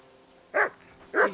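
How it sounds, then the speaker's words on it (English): A dog in Kingdom Come: Deliverance 2 gives two separate barks about half a second apart, each clear and mid-distance over a low, steady game ambience. "Henry, that barking's driving me nuts."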